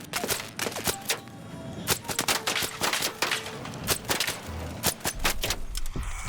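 Bursts of gunfire from a weapon in a video game crack in rapid, uneven volleys of sharp shots at moderate loudness, with short gaps between them and no talk.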